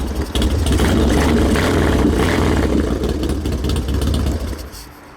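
Harley-Davidson motorcycle engine fired by electric starter with no throttle, settling into a loud, steady, throbbing idle at close range that runs almost five seconds before cutting off abruptly.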